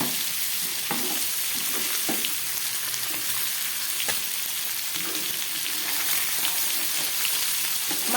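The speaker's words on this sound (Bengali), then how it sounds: "জিরে ধনে লঙ্কার গুঁড়োটা একটু ভেজে নিচ্ছি।" Ground cumin, coriander and chilli powder fry in a pan with fish, a steady, even sizzle like light rain, with faint scraping stirs now and then and no talking.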